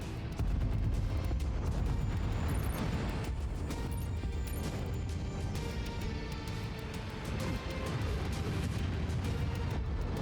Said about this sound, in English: Oh my god, the artillery coming in.